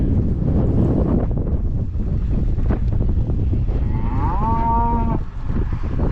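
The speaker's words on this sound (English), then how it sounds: "Oh, the wind, the wind." Gusty wind buffets the microphone outdoors among cattle, a constant low rumble throughout, with a cow lowing in a drawn-out moo near the end.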